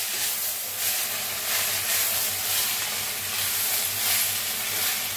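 Moth beans (matki) roast in oil in a pan, giving off a steady, close sizzle and hiss with a faint stirring texture and no talking.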